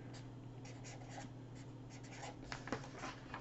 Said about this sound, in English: I'm going to write it down right here.